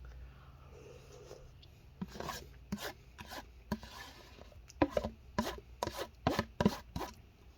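A spoon scrapes and scoops Walmart Magnolia ice cream from a container, quiet scraping and rasping strokes close by, a few sharper scrapes in quick succession later.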